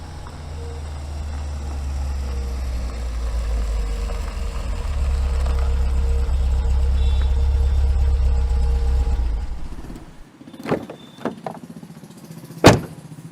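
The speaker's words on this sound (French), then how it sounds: "Une voiture arrive et se gare juste à côté d'eux." A car's engine hums steadily and close for several seconds as it pulls in and parks, then cuts off, followed by a few sharp clunks like doors shutting.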